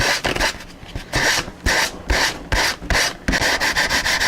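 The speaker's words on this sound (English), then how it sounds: "You see, it's cutting. You don't need to use too coarse of a piece of sandpaper. I think 220 cuts a little bit quicker." Fiberglass cloth on a model airplane build being sanded with 220 grit sandpaper, a close, loud raspy scrubbing in repeated back-and-forth strokes with brief pauses between passes.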